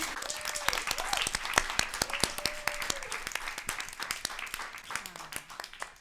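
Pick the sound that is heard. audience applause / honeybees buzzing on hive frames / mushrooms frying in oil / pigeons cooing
audience applause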